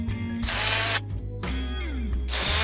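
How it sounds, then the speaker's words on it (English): Impact driver bolting an extra hinge onto a garden gate, loud close bursts of rapid hammering rattle over the tool's whining motor, stopping and starting three times. "add the extra hinge by bolting it to the gate using the impact driver"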